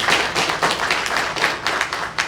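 An audience at a press briefing breaks into dense, continuous applause, many hands clapping together at steady loudness with no talking.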